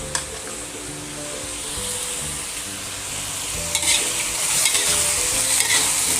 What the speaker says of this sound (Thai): ทำการผัดทุกอย่างให้เข้ากันนะครับ